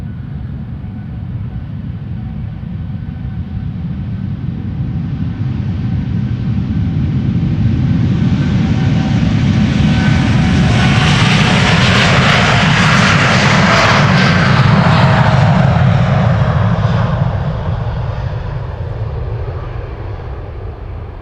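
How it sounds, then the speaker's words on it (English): Boeing 787 Dreamliner taking off from Amsterdam Schiphol bound for Bogota, a powerful jet roar that swells steadily to a loud broadband peak with rising whine, then slowly eases as it moves away. "This is the Dreamliner to Bogota,"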